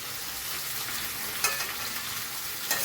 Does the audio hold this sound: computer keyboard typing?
no